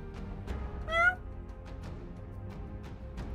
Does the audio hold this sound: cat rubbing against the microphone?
yes